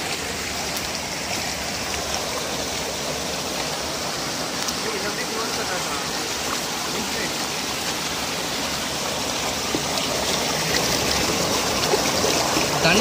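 A hill stream rushes over rocks in a steady, dense wash of water that stays loud and close throughout and swells slightly near the end.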